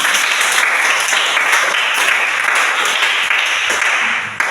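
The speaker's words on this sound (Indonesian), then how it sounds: "Tepuk tangan buat kita semua." Dense, steady applause from a classroom group fills the whole stretch at a loud, even level, with no pause until a brief drop at the very end.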